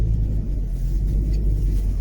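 A car drives along a road in Scotland, a low steady engine rumble and road noise heard from inside the vehicle, continuous and fairly loud with no talking.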